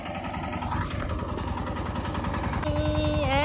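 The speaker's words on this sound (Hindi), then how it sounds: "पापा प्लाउिंग कर रहा है ट्रैक्टर से" A tractor engine runs steadily while plowing a field in a village, a loud low rumble with continuous throb that grows slightly louder toward the end, where a higher whining tone rises over it.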